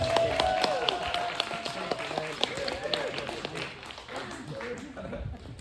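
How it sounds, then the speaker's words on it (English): An audience at a seniors' stand-up comedy show in Las Vegas claps for a comedian, with brisk, steady applause throughout and a voice talking over it. "Let's give a round of applause for Maddie Mercer from Las Vegas, Nevada"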